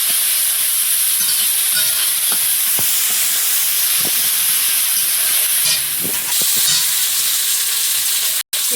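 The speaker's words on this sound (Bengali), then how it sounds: "পেঁয়াজ আদা রসুন ভাজা হয়ে গেছে" Onion, ginger and garlic fry in a pan, a steady loud sizzle and hiss with a few sharp spatula stirs and scrapes scattered through, and a brief break near the end.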